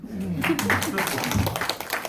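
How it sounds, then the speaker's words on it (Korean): Scattered audience clapping rises during a business presentation at a lecture, a crackly patter of hands mixed under someone speaking over it. "박수 치고 싶죠?"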